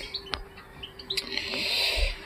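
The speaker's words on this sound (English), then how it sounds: "a male canary and a female goldfinch, and I'm planning or hoping that I can breed them" A male canary and a female goldfinch give short, bright chirps and tweets, close by and fairly soft, with scattered calls over a quiet room.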